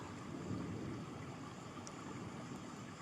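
A thunderstorm plays as faint background ambience: a steady wash of rain and low rumbling, even and continuous throughout, with no voice over it.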